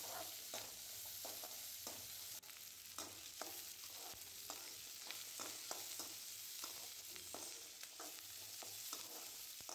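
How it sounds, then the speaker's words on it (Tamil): Dry red chillies crackle and sizzle in hot oil for tempering a spinach dish, with a steady frying hiss and scattered sharp pops and stirring clicks. "நான் வரமிளகா தான் போட்டு தாளிக்கிறேன்"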